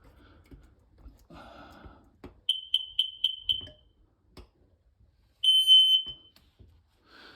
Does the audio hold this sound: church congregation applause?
no